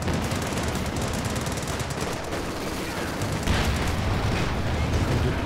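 A grenade explosion in the Company of Heroes 2 video game, amid a 2v2 match: a dense, continuous roar of blasts and gunfire mixed together, loud and rumbling, with commentary running over it.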